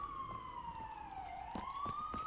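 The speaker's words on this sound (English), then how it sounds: "Ambulance." A Call of Duty Black Ops 3 ambulance siren wails steadily in a slow falling-then-rising sweep, fairly close and continuous, with a few faint thuds and clicks underneath.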